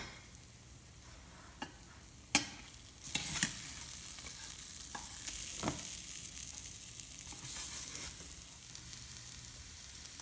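Spicy crunchy idli pieces sizzle and fry in a pan with chickpea powder, with a few sharp scraping clicks as they are turned, then a steady quiet hiss underneath.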